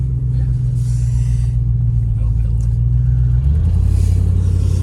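Deep, steady engine drone from a 1988 Range Rover Classic climbing a dirt track off-road, loud and close, with the pitch shifting lower near the end as the load changes.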